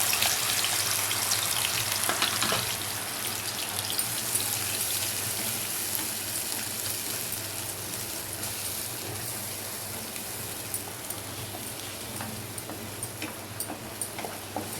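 A paste of onion, tomato, ginger and garlic sizzles and crackles steadily in hot oil, a dense continuous frying hiss with small pops, close and alone without speech.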